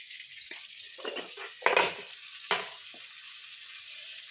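Potatoes sizzle in hot butter and oil, a soft steady frying hiss with a few sharper clatters of stirring against the pan.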